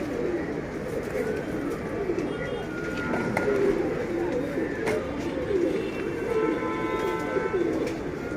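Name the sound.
pigeons cooing in a loft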